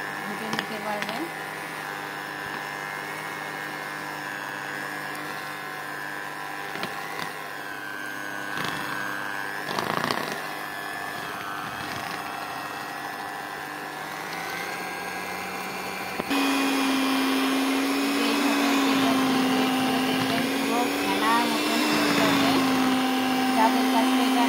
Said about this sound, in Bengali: এবার আমি এই গ্রেটারটা দিয়ে গ্রেট করে নেব।